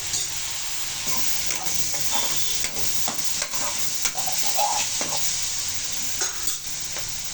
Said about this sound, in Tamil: அப்புறம் தேங்காய் போட்டுக்குவோம். வதக்கணும்.